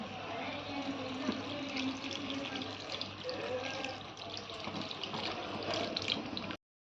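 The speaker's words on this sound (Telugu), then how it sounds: "ఈ చింతపండు పులుసు కూడా వేసుకుందాం" Tamarind juice is poured into a crab curry as a close, continuous liquid splash and trickle lasting several seconds before stopping abruptly.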